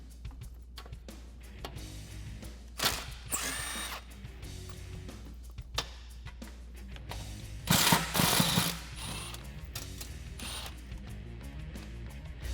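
Power tool with a 10mm socket backing out cover bolts on the front bumper of a Jeep Wrangler, faint ratcheting whirs in short bursts around a steady low hum, with a louder spurt near the end.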